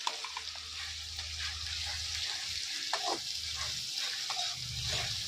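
Onion paste with ginger-garlic and green chilli paste frying in a pan as it is stirred, a steady close sizzle broken by scraping strokes of the spoon and a low hum underneath, no talking.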